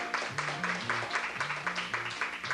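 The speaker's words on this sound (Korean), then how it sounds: "오늘 이렇게 수고해주신 선생님께 박수 다시 부탁드립니다" Audience applause for a teacher after a Kundo qigong demonstration, a dense crowd clapping steadily throughout beneath a melodic background tune with stepping low notes.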